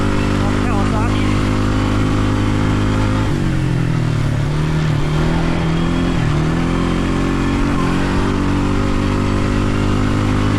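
A Kawasaki Brute Force 300 ATV engine drones steadily on a bumpy trail, loud and close, its pitch dipping and climbing with throttle changes while people talk over it.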